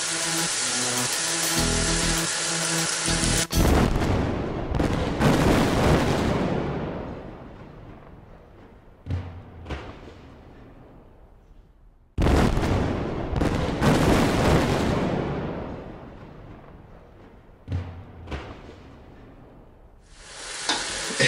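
Pork ribs frying in a pan as rum is poured in, a loud burst of sizzling and flaring that fades over several seconds, then a second strong surge of sizzle partway through, with steady crackling throughout and no voices.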